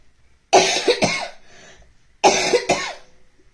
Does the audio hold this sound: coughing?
yes